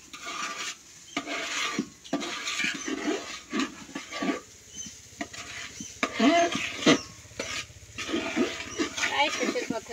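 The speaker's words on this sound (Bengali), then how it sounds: "চাউলটা ভাজি হয়ে যাচ্ছে" Rice fries in a pot over a clay stove for chicken pulao, making soft sizzling and scraping stir strokes that come close and at an uneven rhythm, with faint background noise.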